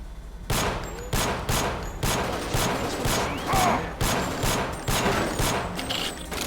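Pistol fire in Deus Ex with the GMDX mod, a rapid run of about a dozen sharp, evenly spaced shots ringing out loud and close over a steady game backdrop.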